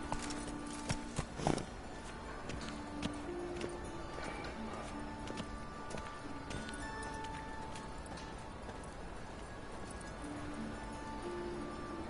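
Roach the horse trotting in The Witcher video game, hooves clip-clopping steadily under game music and ambient sound, with a brief louder burst early on.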